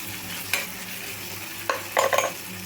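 Tomato pieces fry in a pan for coriander chutney, a quiet sizzle under a few quick scraping stirs, with a burst of clattering strokes near the end.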